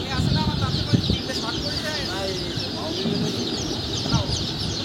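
Naked neck chicks on a poultry farm give a dense, continuous chorus of high peeping and chirping, with a few low clucks and faint background voices underneath.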